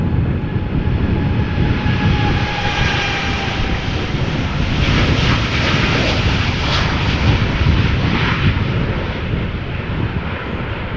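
A TUI Boeing 787-8 Dreamliner departing Amsterdam Schiphol Airport roars with a continuous, loud jet engine rush that swells slightly and holds steady throughout, with no voices.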